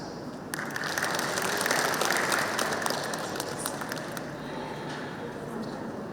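A youth festival crowd at Brac University in Dhaka claps for a speaker named Abdul, a full, sustained round of applause with talk heard over the clapping.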